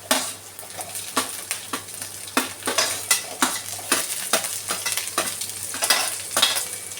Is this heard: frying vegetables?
yes